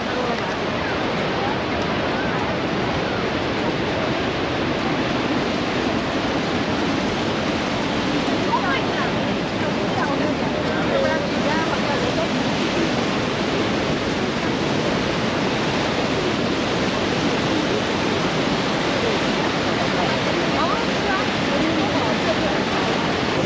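Niagara Falls roaring near Goat Island, a dense, steady rush of falling water that fills the whole clip with no break, loud and close.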